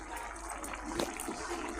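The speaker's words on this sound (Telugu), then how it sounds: "ధనియా పౌడర్ వేసిన తర్వాత కొద్దిసేపు అలా ఫ్రై చేసి వాటర్ వేసేసుకోవాలి" Water poured into a pan of frying ivy gourd curry seasoned with coriander powder, a soft close splashing and sizzling wash with a brief louder gush midway.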